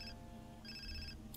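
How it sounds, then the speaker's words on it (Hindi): Phone ringing in the video game Far Cry 3, a short electronic ring with bright repeating tones in two bursts over a steady low background hum, fairly faint. "लो जी फोन आया हमारे पास।"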